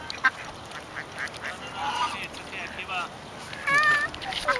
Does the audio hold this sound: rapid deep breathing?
no